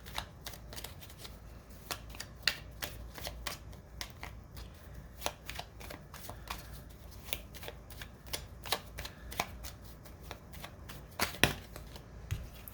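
Tarot cards are shuffled in quick bursts of crisp riffling and flicking, a busy run of sharp close-up snaps and taps at a quiet level, with no talk.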